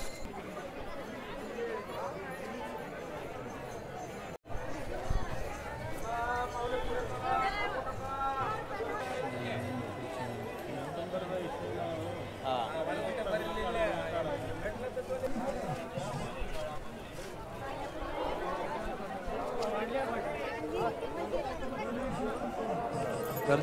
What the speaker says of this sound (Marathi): गर्दी बघू शकता आपण चंद्रभागा घाट आणि हा चंद्रभागाच्या तीरावरची गर्दी